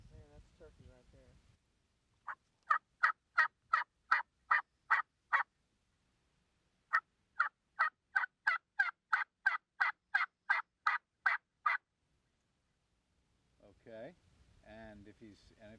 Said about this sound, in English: opens with an early morning tree yelp, then gets a little more aggressive. Man, that's turkey right there.